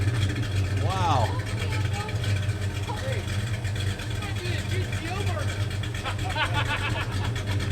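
A 1973 Plymouth Scamp engine idles with a rhythmic lope, a steady low rumble close by while several people talk excitedly over it.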